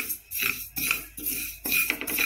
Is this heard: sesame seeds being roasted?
yes